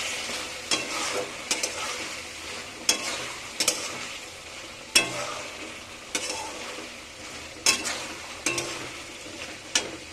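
Chicken kosha cooking down in a pan, a continuous close sizzle of frying meat punctuated by regular sharp scrapes and knocks of a spatula as it is stirred, with no talking.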